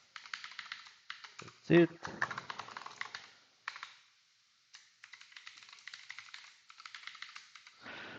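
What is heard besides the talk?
typing a password on a computer keyboard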